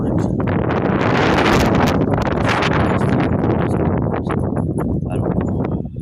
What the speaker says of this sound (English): Too windy to be out here.